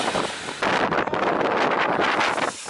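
Strong wind roars continuously during a storm in Iceland, buffeting the microphone with loud, gusty rushing noise for a few seconds with no talk.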